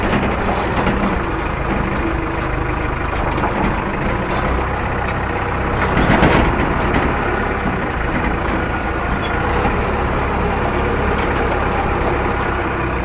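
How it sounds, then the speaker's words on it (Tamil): A tractor's heavy diesel engine drones steadily and fairly close, with a continuous rumble throughout and a brief louder surge midway. "டிராக்டர் எங்கேயோ காட்டுக்குள்ளே பூந்து போதுங்க"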